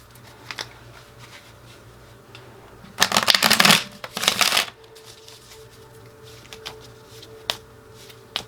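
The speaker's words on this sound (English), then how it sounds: "Let me pull another card here from my deck and see what Spirit has to say." A tarot card deck is shuffled in two dense bursts of riffling, close and fairly loud, with a few small clicks and taps of cards being handled before and after in a quiet room.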